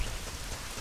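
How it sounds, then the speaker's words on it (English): Rain in the Zelda game Ocarina of Time falls as a steady broadband hiss, fairly loud and unbroken for under a second, with no voices. "Now it's starting to rain"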